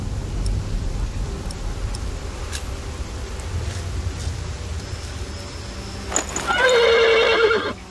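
A horse whinnies loudly near the end over a steady, noisy rumbling background, with faint clip-clop earlier, in the video game Ken Follett's The Pillars of the Earth.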